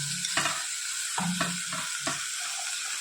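Onions and tomatoes frying in a pan as spinach goes in, with a steady sizzle broken by several close scraping, stirring strokes of a spoon against the pan.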